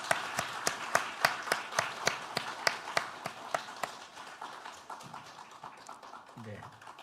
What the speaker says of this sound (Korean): 박수해 주시기를 바랍니다